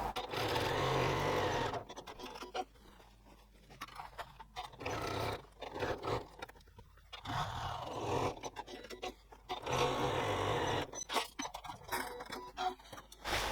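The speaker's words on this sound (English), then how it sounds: "I'll do that second line of stitching close to it again, so close to the original stitch line with on the seam allowance." A sewing machine stitches a second line along a tote bag lining seam on the seam allowance, running in several bursts with short pauses between them. The buzzing is close and fairly loud, with no talk.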